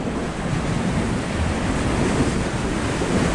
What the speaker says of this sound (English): The waves are coming up through the things.